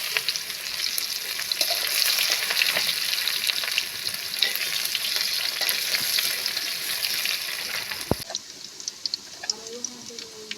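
Onion dropped into hot oil with browned garlic makes a steady, fairly loud sizzle with stirring clicks, then a sharp knock and a sudden drop to quieter crackling.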